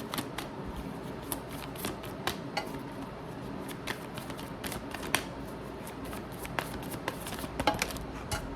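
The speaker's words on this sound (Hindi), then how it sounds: "Let me take out all the cards and we will see." A deck of tarot cards being shuffled by hand, a steady run of soft riffling flutters and crisp card taps repeating throughout, close and fairly quiet with no talking.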